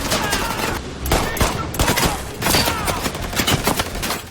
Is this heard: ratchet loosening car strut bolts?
no